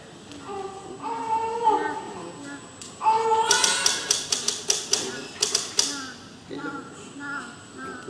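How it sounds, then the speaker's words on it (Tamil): A typewriter clatters in a rapid run of sharp keystrikes, close and loud, while people talk over and around the typing. "இப்படி ஓயாம டொக்கு டொக்கு டொக்கு டைப் பண்ணீங்கன்னா குழந்தை எழுந்துட்ட போறா"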